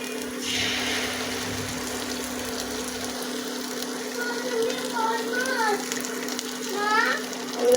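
An egg goes into a hot, oiled pan for children's chow mein and fries with a steady close sizzle and crackle. Light bubbling and spattering build toward the end.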